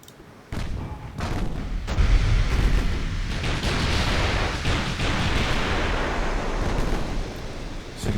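Naval guns firing in Ultimate Admiral Dreadnoughts, a sharp onset followed by a sustained loud rumbling roar of overlapping blasts and booming that carries on for several seconds with no talk.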